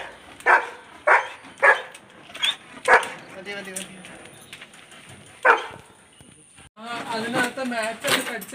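A large pet dog shut inside its cage barks in a series of loud, close, evenly spaced woofs, then pauses and barks again, with some whimpering and a person talking in the background.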